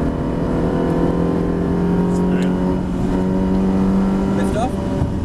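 A Ferrari 360 engine pulls at full throttle on track, a loud sustained drone heard from inside the car with steady engine harmonics and a shift near the end; a voice talks over it.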